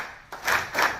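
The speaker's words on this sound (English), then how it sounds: "Can we clap well this side?" A group claps together in unison, giving two loud, broad claps in quick succession, with no voices.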